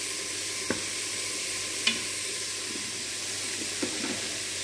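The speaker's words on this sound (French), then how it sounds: "Le but là, c'est pas de la faire cuire, hein, c'est de faire dorer les côtés." Pieces of veal for a blanquette brown in a pan with a steady, moderate sizzle, broken by a few light utensil taps and scrapes spaced a second or two apart.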